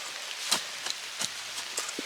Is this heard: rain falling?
yes